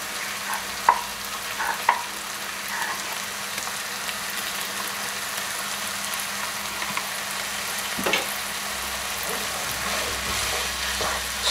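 Flour and tomato paste are stirred into browning beef for a Tuscan beef stew, making a steady low sizzle with intermittent spoon scrapes and knocks against the pot, close and moderately loud, without speech.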